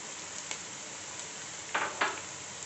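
Onions softly frying in oil as a pinch of nigella seeds is dropped in, a faint steady sizzle broken by two brief louder crackling bursts near the end, close and without talk.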